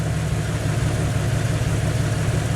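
A Jeep Wrangler YJ engine idles steadily and fairly loud, a continuous low rumble with an even throb and no speech over it.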